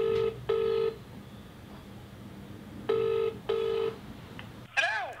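Phone call being placed: two pairs of ringback tones repeat at a steady interval over low room hiss, then a brief electronic chirp as the line connects.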